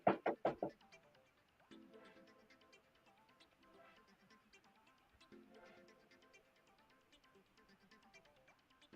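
Three or four loud, sharp knocks on wood ring out at the start, then fade into quieter background sounds and faint voices.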